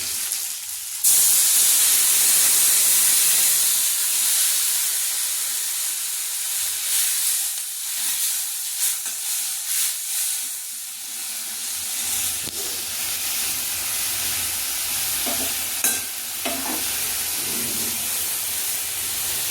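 Water is poured into a pan of frying eggplant for a hilsa fish-head, cabbage and fish curry. It sets off a loud burst of steamy hissing and sizzling that settles into a quieter, crackling simmer with occasional pops.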